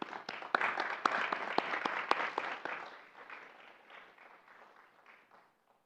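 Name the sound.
audience applause welcoming a speaker to the stage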